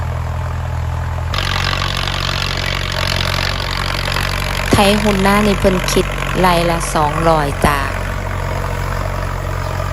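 A tractor engine drones steadily and loudly throughout while plowing a dry rice field, with a person talking over it in the second half.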